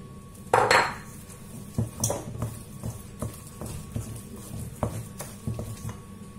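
A utensil scrapes and clinks against a bowl while eggs are mixed into a potato mash mixture for hachis parmentier: an opening louder clatter, then scattered softer knocks and scrapes at an irregular pace, close up, with no talking.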